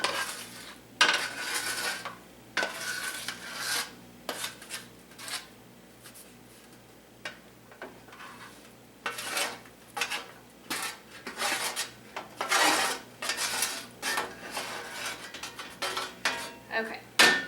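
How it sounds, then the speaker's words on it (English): Roasted onions are added to a pot of oven-roasted garden tomato marinara, giving repeated clatter of metal utensils against the pot, scraping and stirring noises in irregular bursts at moderate loudness, with no talk. "we're going to add the onions that we roasted."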